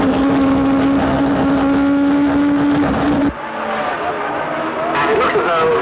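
A racing car from a 1965 race speeds around a track, its loud, steady engine whine holding a high pitch for about three seconds before cutting away to quieter track noise.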